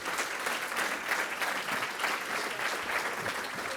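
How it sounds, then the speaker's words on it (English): Lecture audience at an MIT medical device talk breaks into a full, even round of applause for the speaker, a continuous wash of many hands clapping at moderate loudness. "Big round of applause"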